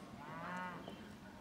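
A single faint cow moo drifts in from a distance across a creek on the coastal flats between Faversham and Whitstable, low and drawn out over steady background noise.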